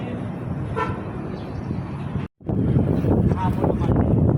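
Wind buffets the microphone with a steady rumbling roar on a steel bridge in Sulipan, a brief dropout midway, while faint voices and distant traffic sit underneath.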